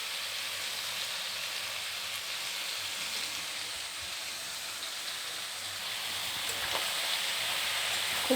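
Vegetables with capsicum frying in a pan for pasta give a steady, close sizzle and hiss that holds even throughout and swells slightly near the end, with no voices.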